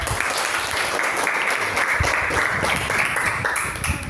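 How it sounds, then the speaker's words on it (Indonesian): Applause from a class of students after a correct answer in a maths lesson, steady dense clapping that fills the whole moment at close range with no talk over it. "Tepuk tangan untuk."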